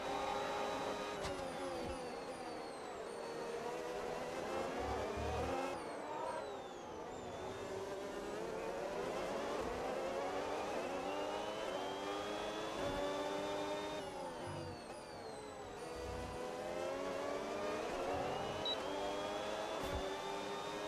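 Red Bull Formula 1 car engine in the racing video game F1 26, a continuous high-pitched whine that rises and falls through repeated upshifts and downshifts, heard alone at moderate level.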